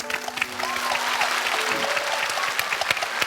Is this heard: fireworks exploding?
no